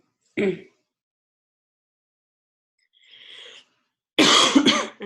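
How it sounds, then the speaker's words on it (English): A short cough, a pause, a faint throat sound, then a louder harsh cough near the microphone. "I'm coughing today, sorry."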